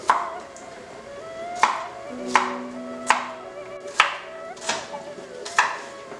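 A knife coarsely chops garlic on a cutting board in steady, unhurried strokes, about seven crisp thuds spaced roughly a second apart, close and fairly quiet.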